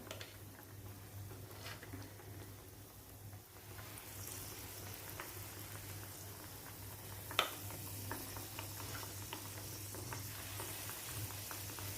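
Malpua batter fries in hot oil over a medium flame, a faint, steady sizzle with light ticking pops and one brief sharp clink partway through, with no voices.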